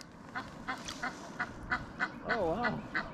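Ducks by the Guadalupe River quack in a steady series of short, close calls, about one every third of a second, with a warbling call near the end.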